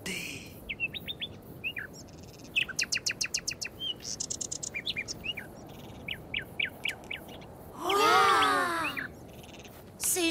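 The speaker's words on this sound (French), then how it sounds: "On entend l'oiseau qui est là-bas" Outdoor birdsong: repeated short chirps and trilling phrases from a few birds at moderate distance, with a louder, harsher burst of calls near the end.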